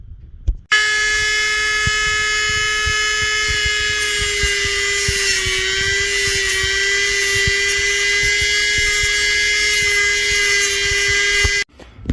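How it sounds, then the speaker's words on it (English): A grinder chamfers a crack in an arcade skee ball machine part to prep it for welding, giving a loud, steady high-pitched whine that runs continuously for about eleven seconds, starting and stopping abruptly. "So now we've got that crack all chamfered down."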